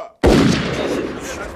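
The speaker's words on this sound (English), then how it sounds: "Shot fired." A single gunshot goes off close and loud after a brief silence, its sharp crack followed by a heavy, lingering roar with no voices over it.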